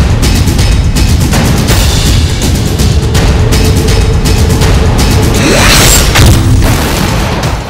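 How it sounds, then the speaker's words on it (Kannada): An IED bomb explosion in Delhi near the Israel embassy comes across as a continuous, very loud, distorted rumbling roar with scattered crackling bursts. There is no speech. "ದೆಹಲಿಯಲ್ಲಿ ಐಇಡಿ ಬಾಂಬ್ ಸ್ಫೋಟ."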